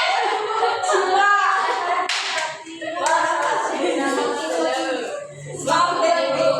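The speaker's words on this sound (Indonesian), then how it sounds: "Berikan aplaus untuk Desi." Classroom applause for a pupil named Desi in a second-grade lesson, scattered clapping from children mixed with overlapping chatter and children's voices, fairly close and busy, with a brief lull partway through.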